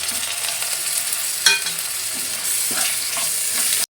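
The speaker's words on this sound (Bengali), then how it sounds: "এখন মশলাটাকে ভালো করে কষিয়ে নেব" Ginger-garlic paste and ground spices for a soybean curry sizzle steadily in hot oil while being stirred, with a sharp clatter midway and the frying growing a little louder toward the end; no one speaks.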